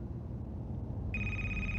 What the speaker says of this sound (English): Oh, phone ringing.